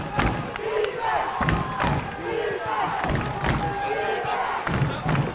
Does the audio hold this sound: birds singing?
no